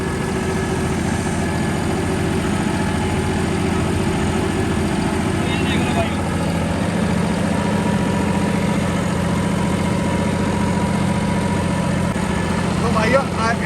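A New Holland 5620 CRDI tractor engine idles steadily in eco mode with a continuous low drone and even vibration, close and unbroken, with no speech over it.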